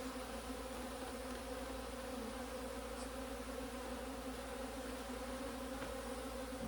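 Honey bees at a hive during a queen-rearing setup make a dense, steady, even buzz throughout, with no voices.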